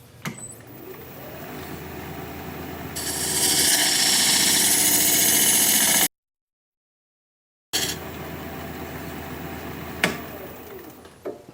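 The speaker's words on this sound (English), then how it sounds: "I'm just going to use my diamond point tool to give me straight sides on this tenon." Wood lathe turning a tenon on a live-edge, end-grain winged bowl with a diamond point tool: a steady motor hum rises into a loud continuous scraping cut, breaks off briefly, then resumes as a quieter running drone.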